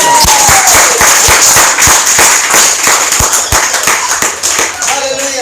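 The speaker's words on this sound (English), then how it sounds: "Can we have one more clapping?" An audience in a Bible class claps in a loud, fast, sharp burst of close handclaps that rattles on steadily before thinning out at the end.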